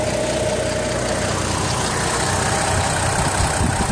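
The 4.2 Vortec engine of a 2002 Chevy Trailblazer idles steadily, a continuous loud rumble heard up close with a faint repetitive ticking and no voices.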